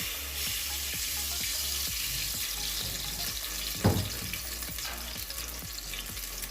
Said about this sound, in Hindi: सबसे पहले हाफ कप कुकिंग ऑयल डालेंगे